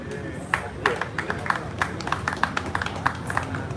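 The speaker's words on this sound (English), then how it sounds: "a big round of applause to you for saving Edgar Batte" An audience at a car wash event applauds with scattered, uneven claps, fairly close and moderately loud, alongside some crowd murmur.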